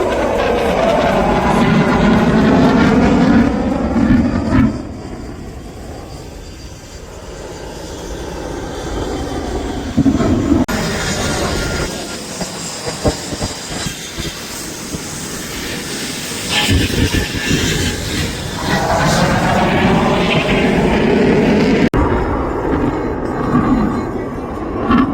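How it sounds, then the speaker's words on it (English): A Eurofighter Typhoon jet performs air show manoeuvres with afterburner, a loud sustained roar that rises and falls as it passes, with Doppler sweeps and a commentator talking under the noise at times. "The Typhoon will now approach inbound once more to gain energy and set up for a half-cuminated reversal"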